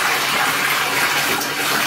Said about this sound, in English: It's only one style flush system, and it literally empties the entire tank